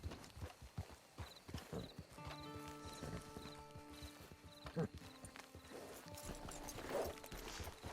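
Horse hooves clip-clop steadily with a neigh, over background music in a Red Dead Redemption 2 Online scene near a camp.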